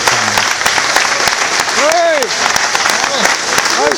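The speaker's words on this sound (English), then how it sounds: "Round of applause for that." At a Prodrive open day, an audience applauds a rapid Subaru WRC gearbox change, giving loud, sustained clapping close by while a voice speaks over it.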